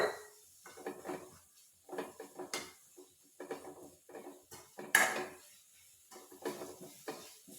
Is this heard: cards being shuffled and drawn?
no